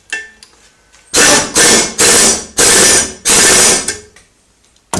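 A ratchet tightens bolts on a BMW E31 840Ci electric conversion in five loud, close bursts of rapid clicking, each around half a second long, with quiet gaps and light metallic handling before and after.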